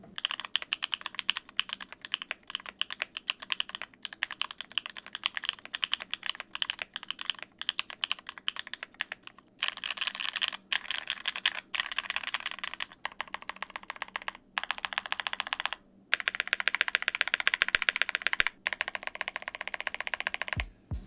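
Rapid clacking of a Brutal V2 mechanical keyboard with long pole switches typed on up close, irregular bursts of keystrokes with brief pauses, no talking.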